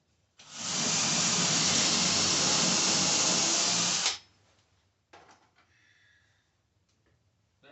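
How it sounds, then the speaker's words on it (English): A power drill pre-drills a hole in wood for a loft ladder, a loud, steady whine lasting about four seconds before cutting off, followed by faint clicks and handling noises. "I'm going to pre-drill my hole first."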